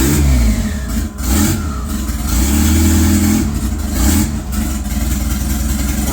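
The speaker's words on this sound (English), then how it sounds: "There we hear some turbo noises." A turbocharged 2.3L 1984 Ford Ranger engine, blow-through setup with a Holley 350cfm carburetor, revving hard and loud at close range, with brief throttle lifts around the one- and four-second marks and no talking.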